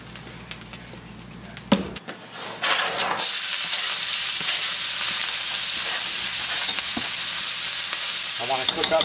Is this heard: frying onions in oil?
yes